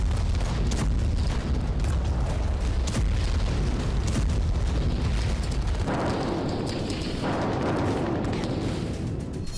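Bombardment of Ukrainian cities by Russian forces, heard as a continuous dense rumble of explosions and booms, loud and sustained throughout with rolling low-end thunder and no voices.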